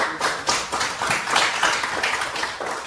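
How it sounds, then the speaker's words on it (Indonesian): Students in a classroom clap for a group that just finished presenting, a brief, moderately loud burst of mixed hand claps with a slightly uneven rhythm. "kita berikan tepuk tangan untuk kelompok yang sudah membahas"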